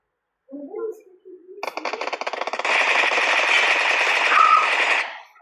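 Gunfire from a weapon in a video game: after a brief voice, a rapid automatic burst rattles out in quick regular shots, then merges into a dense, continuous roar of fire that stops abruptly.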